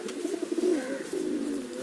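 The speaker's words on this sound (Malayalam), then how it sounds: "നല്ലൊരു വലിയ തലയുള്ളൊരു പ്രാവാണിത്" A big-headed pigeon coos in a low, throaty, rolling series of notes, close and fairly soft, with no voices over it.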